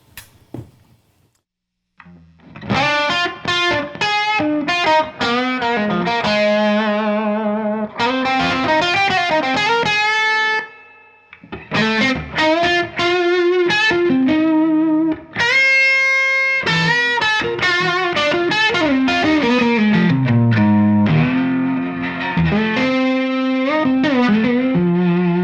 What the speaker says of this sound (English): the blue mode, is kind of an asymmetric clipping